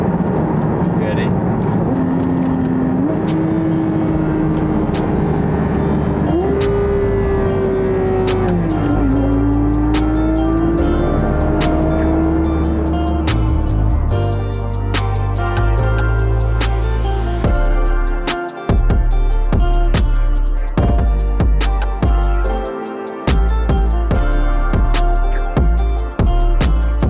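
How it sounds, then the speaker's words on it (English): A Porsche GT3 supercar engine in manual track mode revs hard, its pitch climbing and dropping through several shifts, then sharp crackling pops and bangs on the downshifts, loud and close with a voice talking over it. "listen to these downshifts now"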